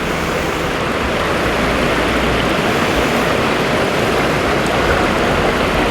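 A waterfall and river run full after overnight rain, a steady, loud broadband rush of falling and flowing water with no breaks, close and unchanging.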